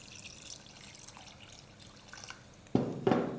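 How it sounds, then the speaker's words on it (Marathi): After a quiet stretch, water is poured onto sautéed potatoes in a pan for a potato curry, in two short, splashy gushes right at the end. "आता यामध्ये घालायचं पाणी"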